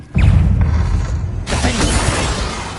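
Confringo, a fiery blast spell in the video game Hogwarts Legacy: a loud close explosive burst with a heavy booming low end, followed by a second crashing, shattering impact that rumbles and fades.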